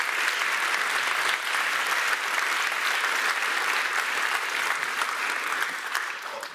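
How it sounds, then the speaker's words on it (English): Conference audience at the Berlin Global Dialogue applauding the organizing team, a sustained, even wash of clapping from a large crowd that fills the full six seconds before tapering at the end. "Let's give them all applause."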